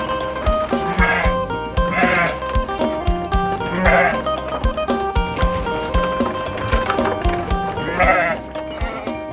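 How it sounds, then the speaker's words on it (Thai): Goats and sheep bleat on a livestock farm, with repeated loud, close calls from several animals overlapping at an irregular rhythm. "เลี้ยงก็มีทั้งแพะและแกะ"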